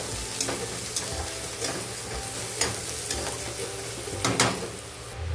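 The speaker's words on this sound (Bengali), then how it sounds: "এখন দিয়ে দেবো রসুন থেতো করা আর কাঁচা লঙ্কা দিয়ে দিলাম, এটাও পেঁয়াজের সঙ্গে ভেজে নেবো ভালো করে" Onion with crushed garlic and green chili fries in a pan, giving a steady close sizzle throughout. Periodic sharp scrapes and clicks come from stirring, with no talk.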